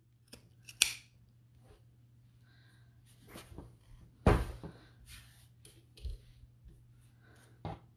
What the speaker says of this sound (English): little snips all the way around